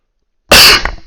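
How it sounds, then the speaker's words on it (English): A single sharp, loud cough during an online crazyhouse chess game, bursting out abruptly and then tailing off into a brief, fading breathy aftersound; nobody speaks. "I'm sorry about the cough."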